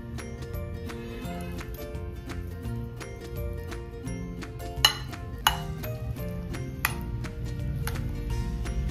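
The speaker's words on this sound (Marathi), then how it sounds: "आपण याला थोडंसं असं चमच्याने मॅश करून घेणार आहोत" A spoon mashes boiled, peeled potatoes in a bowl, giving repeated light clinks and taps of metal on the dish, with a few sharper knocks, all set against steady background music.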